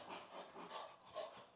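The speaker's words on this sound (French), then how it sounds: "Ah, un toutou chien." A pet dog whimpers and pants close by in an empty laundry room with new custom-built cabinets, the breathy whines running continuously for a moment with no talk over them.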